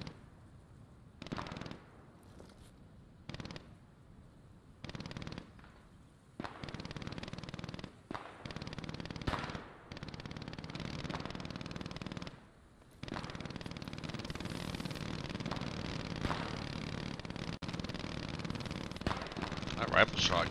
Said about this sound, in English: That rifle shot kind of sounded a little bit northwest.